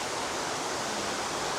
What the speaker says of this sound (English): All these cool little waterfalls around here.